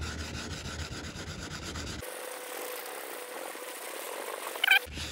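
A car hood is hand sanded with 320 grit sandpaper during a rattle-can repaint, giving a steady, close, continuous abrasive rasp that changes texture partway through, with no talking.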